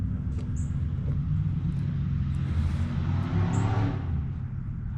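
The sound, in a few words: lowered truck with custom exhaust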